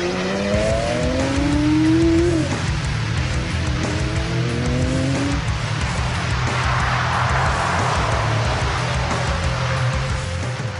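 Identical black and silver VW Beetle race cars drive fast on a track, a loud continuous engine roar with rising and falling revs and passing whines that carries for several seconds without voices.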